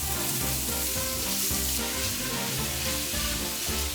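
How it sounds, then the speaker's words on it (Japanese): Ground meat stir-fried over high heat for a chilled sansho soba, a dense, loud, unbroken sizzle with frying crackle filling the whole stretch, close to the pan, no voices. "肉を入れたら火力を強め、肉の色が白くなるまでしっかり炒めていく。"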